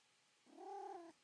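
A house cat making a soft, cooing, owl-like call, one faint sustained tonal hoot lasting just over half a second against quiet background.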